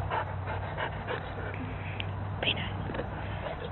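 A dog pants rapidly at close range, with wet licking sounds and faint whimpers, while a person talks softly over it.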